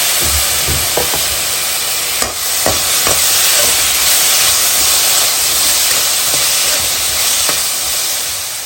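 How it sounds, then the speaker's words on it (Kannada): Chopped tomatoes hit a hot pan and sizzle with a steady, loud hiss of frying, broken by a few sharp clicks and stirring knocks, with no voice over it. "ಹಾಗೆ ಕಟ್ ಮಾಡ್ಕೊಂಡಂತ ಟೊಮೆಟೊ ಸೇರಿಸ್ಕೊಳ್ತಾ ಇದ್ದೀನಿ"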